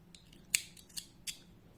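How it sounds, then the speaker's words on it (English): Scissors snip through crochet yarn in three or four quick, close, crisp cuts with short pauses between them, in a quiet room. "cutting the yarn"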